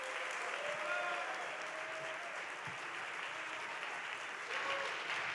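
An event audience at a Startup Grind Barcelona night greets a DJ with sustained, fairly loud applause and a few faint whoops. The dense clapping holds steady throughout.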